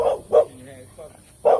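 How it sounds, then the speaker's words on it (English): An American Bully dog barks three times in short, sharp yelps, close by, with brief pauses and some quiet whining sounds between the barks. "She just barking"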